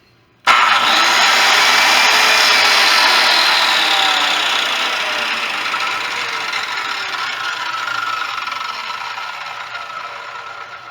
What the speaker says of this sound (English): This one does not have an electric brake on it, and you'll notice how long it took for it to stop